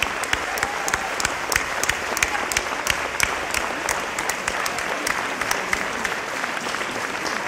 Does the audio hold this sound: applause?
yes